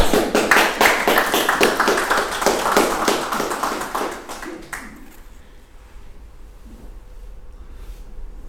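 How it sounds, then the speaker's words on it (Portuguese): An audience at a talk applauds with dense, close clapping for about five seconds, which then stops abruptly into near silence. "Merece uma salva de palmas."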